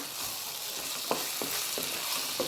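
Tomato sauce sautéing in a pan for an egg chilli capsicum dish, a steady close sizzle with a few soft stirring taps, no talk.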